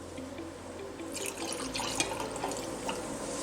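Water pours and trickles into an ethanol solution in a container, a short splashing flow that swells midway then settles, close by with no talking.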